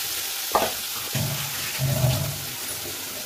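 Round pieces of fish fry dhaba style in hot oil at home, a soft sizzle broken by a few short stirring and crackling bursts, close and fairly quiet.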